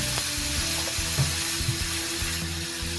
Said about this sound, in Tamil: அது கூடவே ஒரு தக்காளியை கட் பண்ணி சேர்க்கிறேன்.